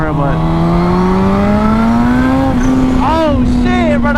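A turbocharged Suzuki GSX-R 1000 motorcycle accelerating hard, its loud engine note climbing steadily in pitch before dropping briefly and rising again, heard up close under wind.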